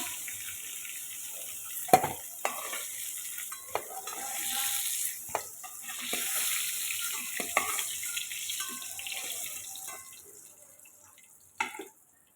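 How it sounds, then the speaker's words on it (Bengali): Potatoes fry in oil in a kitchen after a batch of pointed gourd, a soft intermittent sizzle broken by sharp clatters and stirring knocks, close and fairly quiet, ending in near silence. "একই তেলে আলুগুলোও ভেজে নেব"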